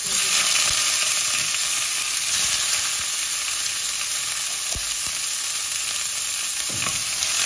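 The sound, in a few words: pork ribs meat added to the pot, sizzling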